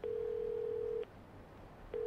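A payphone in the video game Yakuza 0 emits a steady electronic tone lasting about a second, then a pause, then the tone starts again.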